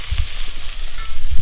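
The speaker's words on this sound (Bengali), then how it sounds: "পেঁয়াজটা একটু ভেজে নিতে হবে।" Chopped onion frying in a pan, a close, steady sizzle with a few soft stirring clacks over a brief moment, with no voices.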